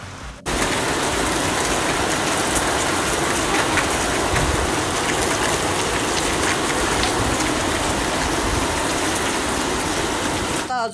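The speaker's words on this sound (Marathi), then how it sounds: "बीड जिल्ह्यातील केज तालुक्यात अशा प्रकारे पाऊस झालेला आहे" Heavy night rain in Kej taluka, Beed district, Maharashtra: a dense, loud, continuous roar of downpour with patter on surfaces, starting abruptly and holding steady to the end, with no talking.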